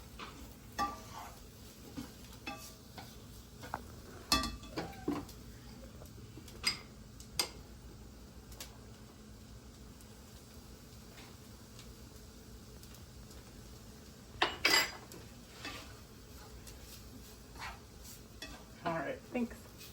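Seitan coated in cornstarch sizzles softly while browning in a frying pan, with scattered scrapes and clinks as a utensil stirs against the pan at irregular intervals.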